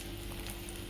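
An onion, tomato and egg omelette frying over a low gas flame gives a soft, steady sizzle and crackle that holds evenly throughout, with no voices.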